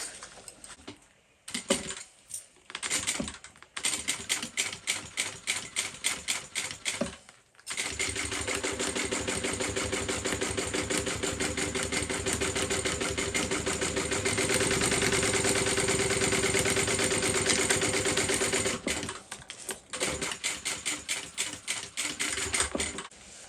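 A sewing machine quilts layers for a tote bag at a long 4.5 stitch length, with short bursts of rapid rhythmic stitching, a long continuous run in the middle, then more brief bursts, close and unaccompanied by talk.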